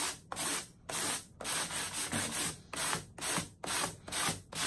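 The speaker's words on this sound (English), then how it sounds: "wrapping a 320 around my sanding block" A sanding block wrapped in 320-grit sandpaper rubs over paint in rhythmic strokes, about nine passes with brief pauses between them, close up and fairly loud.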